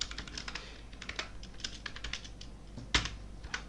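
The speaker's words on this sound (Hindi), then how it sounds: "तो सबसे पहले हम यहाँ पर टाइप करेंगे 10th" Keys clack on a computer keyboard in quick, uneven bursts of typing with brief gaps, close and fairly quiet, one sharper keystroke standing out near the end; no voices.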